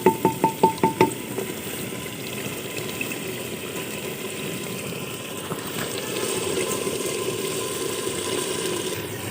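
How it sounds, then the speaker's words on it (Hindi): Water is poured into a pot of chicken pulao over a village cooking fire, starting with a few quick sloshing splashes and then settling into a steady, moderate pour that runs on to the end. "इसमें पानी डालते हैं।"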